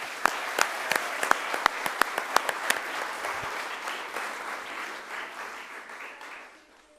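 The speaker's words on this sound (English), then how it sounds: "Let's give him a round of applause." An audience applauds at a leadership engagement event, starting with sharp, distinct claps that merge into a steady round and then gradually fade away over about seven seconds.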